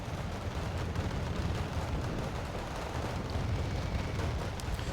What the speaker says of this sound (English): And now we're going to do another bombing run on these ZSUs